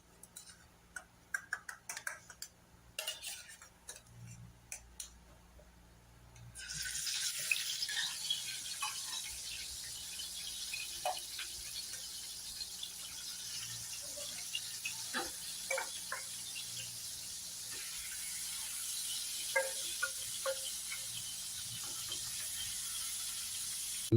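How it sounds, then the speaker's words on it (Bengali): Rohu fish fries in hot mustard oil, a steady broadband sizzle that rises suddenly partway through and holds loud and continuous, with scattered ticks and pops over it; no one speaks. "মাছটা এখন আমি ভেজে নিচ্ছি।"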